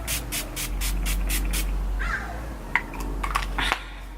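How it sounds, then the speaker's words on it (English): Several quick, short hissing bursts of Urban Decay De-Slick makeup setting spray in a rapid row, close and fairly loud, followed by a few soft clicks and light handling noises. "So I'm just gonna add the setting spray,"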